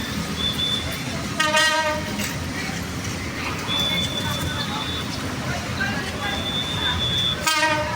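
Train rolling past near the NLEX Connector construction site, a steady rumble of rail cars with sharp horn toots and squealing tones, loud and fairly close, while a voice talks faintly underneath.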